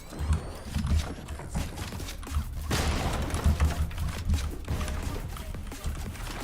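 Gunfire in the Fortnite video game: irregular bursts of shots and thumping impacts over a continuous busy background of game noise.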